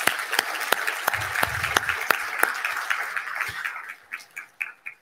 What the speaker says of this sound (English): Let's give all of our greeters another round of applause.